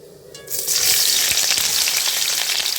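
Chopped onions dropped into hot oil with frying cinnamon and spices for beef kabsa, a quiet crackle that bursts into a loud, steady hiss and sizzle close by.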